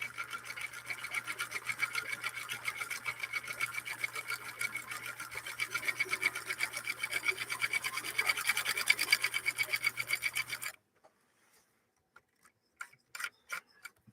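A 1958 Husqvarna Viking Type 21 sewing machine stitches at a steady, rapid, even rhythm for about ten seconds, close and clear. It then stops, leaving near silence broken by a few faint clicks.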